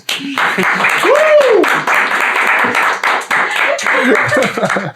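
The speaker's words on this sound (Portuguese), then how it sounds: "Palmas!" In a Christian podcast studio, a small audience claps loudly and close to welcome a guest, a bright, steady burst of hand claps with a rising whistle and voices calling out amid it.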